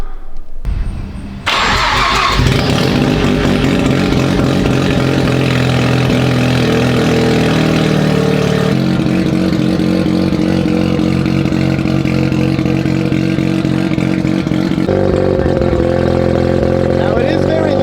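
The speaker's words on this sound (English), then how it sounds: "Now it is very loud at the moment because there is a downpipe, but there is no exhaust." Mazda RX7 rotary engine fitted with a downpipe but no exhaust starts up and runs very loud and raw, a steady harsh drone holding for many seconds close by.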